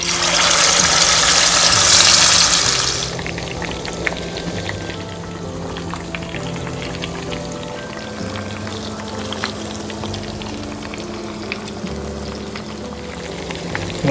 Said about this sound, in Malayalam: ഞാൻ ചിക്കൻ ഓയിലിലേക്ക് ചേർക്കാം കേട്ടോ. ഓയിലിട്ട് ഫ്രൈ ചെയ്ത് ഇങ്ങനെ എടുക്കാം.